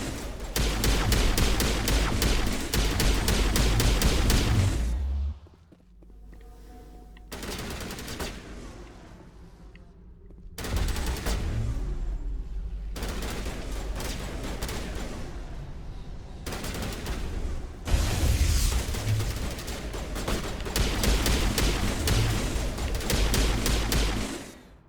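Heavy automatic weapon fire from the Mass Effect video game, dense rapid bursts roaring loudly for long stretches and broken by short pauses filled with quieter game ambience.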